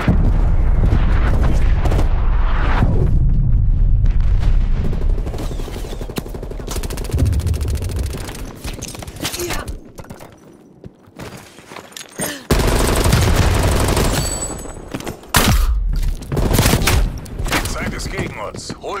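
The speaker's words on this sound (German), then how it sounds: "Artilleriebeschuss!" Artillery bombardment and machine-gun fire in Black Ops Cold War, loud booming blasts and rattling bursts of automatic shots, with quieter lulls between heavy barrages and game voices speaking over the combat.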